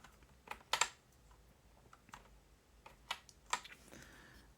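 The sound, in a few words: typing on an RGB computer keyboard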